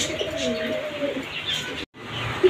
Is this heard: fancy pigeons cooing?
yes